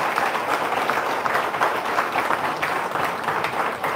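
A church audience claps steadily to welcome visiting priests, a dense, even wash of applause from a crowd in a large room that continues without a break and with no talking over it.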